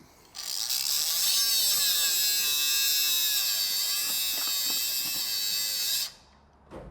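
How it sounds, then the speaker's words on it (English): A Milwaukee M12 cordless straight die grinder fitted with a cutting blade screams at a high, steady pitch for about six seconds, its tone dipping slightly as the blade loads up in the cut, then spins down. "On cutting with the blade, it binds up just like a pneumatic die grinder"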